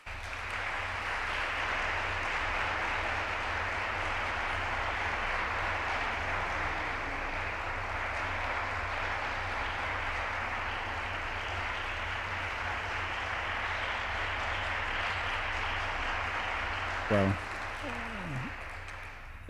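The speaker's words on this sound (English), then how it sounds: "that's the round of applause for Karen" Church audience applause welcoming a poet and theologian at the Church of the Redeemer, a long even wash of clapping at moderate distance, with a voice briefly speaking near the end.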